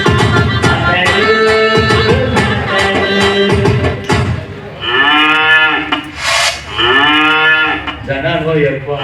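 Cattle moo in several long, drawn-out calls through the second half. They come after a stretch of busy, layered sound and sit fairly close and loud.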